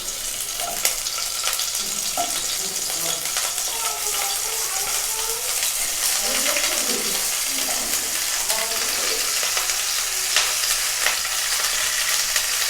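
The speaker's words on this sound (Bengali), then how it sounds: "আমি এখন এই তেলের মধ্যে ফুলকপিগুলো ছেড়ে দিচ্ছি" Cauliflower pieces fry in hot oil with a loud, continuous sizzle and bubbling hiss that stays steady throughout, while a voice talks faintly beneath it in the middle.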